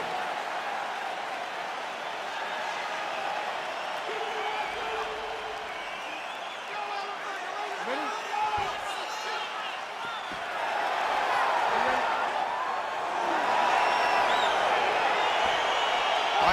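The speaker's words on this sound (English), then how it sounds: "crowd getting excited as this fight gets underway" Arena crowd in EA Sports UFC 4 roars steadily as a fight begins, a dense continuous wash of cheering and murmur that swells louder toward the end, with a commentator's voice running over it.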